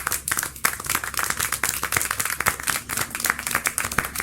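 Clapping in the Syberia The World Before video game: a steady run of handclaps over a busy background, loud and close, with no voices.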